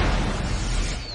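Fireworks blast in the animated series Scooby-Doo! Mystery Incorporated, a loud, dense, rumbling explosion that fills a short moment with a crackling roar and a faint whistle near the end.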